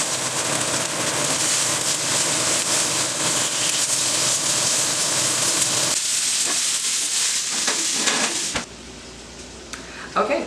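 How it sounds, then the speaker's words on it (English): Lamb chops sear in olive oil in a preheated cast iron pan, giving a loud, steady, broad sizzle and hiss that runs for several seconds before dropping off sharply near the end. "put some in a cast iron pan that's already been preheated. So I've been heating it up in the background when I was seasoning the meat. So now I'm just going to go ahead and let it sear."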